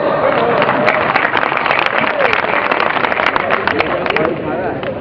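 An audience at a Hindi poetry recital (kavi sammelan) in Depalpur, Madhya Pradesh, breaks into loud, continuous applause, dense and close, with sharp individual claps standing out throughout.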